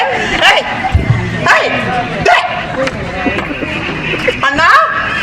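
Dog barking and yipping in repeated bursts amid a busy background of voices and crowd babble, from a comedy scene.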